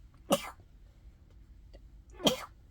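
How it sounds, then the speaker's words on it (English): Two sharp sneezes about two seconds apart, close and loud against a quiet background. "I'm going to sneeze here in a second."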